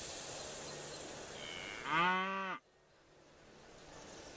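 A single deep cow moo from the video game Railway Empire 2, loud and drawn out for about a second, rising over a quiet background hum, then cutting off sharply.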